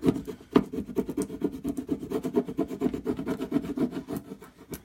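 A stick end rubbing a white transfer into grooved wood, rapid rhythmic scratchy rasping strokes close up and moderately quiet, with no talking.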